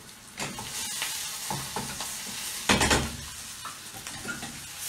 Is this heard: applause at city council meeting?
no